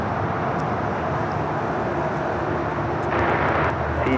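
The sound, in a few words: airliner arriving at Los Angeles airport (LAX)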